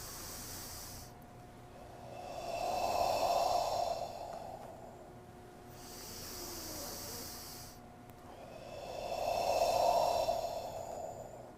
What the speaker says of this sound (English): Then as we push the wall, we exhale.